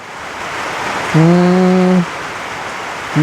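Steady rain falls with a constant broadband hiss through the whole stretch. A loud, droning harmonic tone cuts in over it for about a second, then returns briefly at the end.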